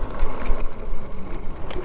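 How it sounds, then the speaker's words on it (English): A thin, high-pitched squeal of the brakes on an OUXI V8 moped-style e-bike held for about a second over steady rolling road noise, close and fairly loud. "These brakes are getting a little squeaky."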